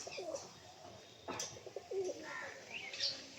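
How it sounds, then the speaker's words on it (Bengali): Several pigeons coo softly at a home loft, with low rolling calls, a few faint chirps and a brief wing flutter, all fairly quiet and distant-sounding. "এই হচ্ছে পায়রা"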